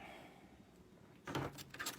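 A drawer in a craft room that holds stamps and buttons slides open with a short scraping rush about midway, set against a quiet room hush. There is no talking.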